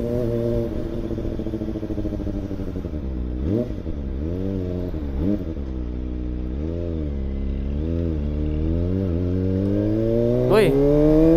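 A Kawasaki ZX25R motorcycle engine revs steadily, with rising and falling harmonic sweeps and a sharp throttle blip near the end, close and loud throughout.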